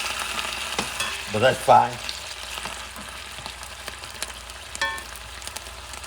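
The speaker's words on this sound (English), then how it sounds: "now I'm going to add vinegar" Red onions softening in a hot pan sizzle and fry steadily as vinegar goes in for a Dominican mangú topping, with a brief louder burst of spitting near the start and a voice speaking briefly over the hiss.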